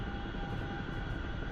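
Chinook CH-47 helicopter in a video game, a faint, steady rotor and turbine drone with a constant tonal hum, unbroken and without speech.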